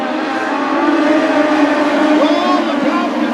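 Racing engines at a speedway during an INEX Legends main event, a loud sustained whine with shifting pitch as cars pass, under an announcer talking.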